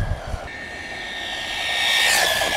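A brushless RC car on a 2S LiPo runs at full throttle, its motor giving a loud, rising high-pitched whine that climbs steadily, heard nearby without talk.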